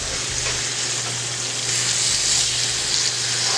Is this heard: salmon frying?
yes